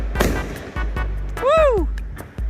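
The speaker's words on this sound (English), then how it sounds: "There is a lot of fireworks from behind my house, in the back of my house actually." Backyard Fourth of July fireworks go off behind a house in sharp repeated bangs with a rising whistling streak, while people cheer nearby.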